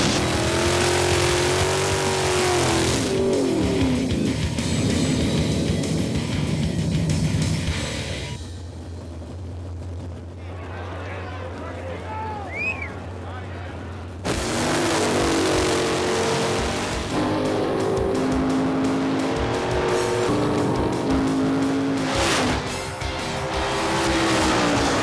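Drag race cars launch off the start and accelerate hard with loud roaring engines and gear changes, fade to a distant quieter stretch midway, then roar loudly again as more engine noise returns.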